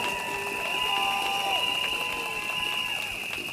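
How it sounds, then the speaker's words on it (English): Rally crowd at a 2025 Singapore general election event gives a faint, steady round of applause, heard from a distance, with a thin electronic tone humming through it. "A big round of applause."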